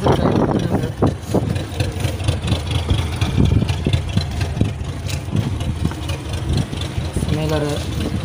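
A TVS XL moped's small engine runs close and loud on a road trip toward Vempar Beach, a steady low putter with irregular bumps and knocks, and a brief voice near the end.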